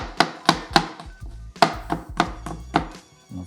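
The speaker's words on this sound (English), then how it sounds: "For pepper, just gonna cut a little piece. Give that a little mince." A knife mincing a small piece of pepper on a wooden board makes sharp, close thunks, eight or so firm chops in an uneven rhythm with brief pauses between them.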